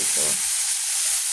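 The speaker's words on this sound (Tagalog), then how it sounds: "Haluin lang natin." Food frying in a pan sizzles with a bright steady hiss while a utensil stirs it, giving a brief scrape near the start, close and alone.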